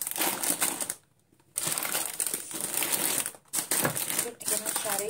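Plastic bags of vermicelli pasta handled and squeezed in a grocery haul, loud crinkling and crushing rustles close by, broken by two short quiet pauses.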